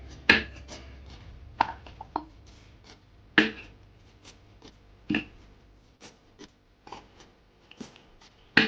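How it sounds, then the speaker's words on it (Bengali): Figs, already peeled and washed, sliced in half with a knife on a board, giving a series of sharp, separate chopping taps at an uneven pace, close and fairly quiet with no talking. "এবারে ডুমুরগুলোকে হাফ হাফ করে কেটে নেবো।"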